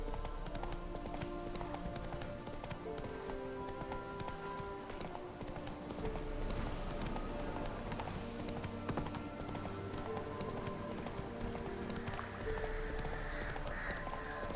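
Roach, the horse in The Witcher 3: Wild Hunt, gallops with continuous rapid hoofbeats layered over game music and ambience, steady and prominent across the whole stretch.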